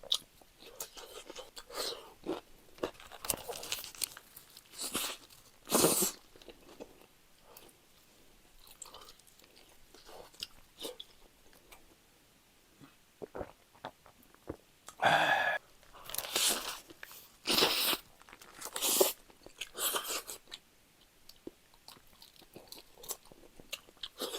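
Crunchy bites and wet chewing of a tall stacked Mom's Touch burger with sauce, close up, in bursts separated by quiet pauses, with occasional soft sounds from the eater.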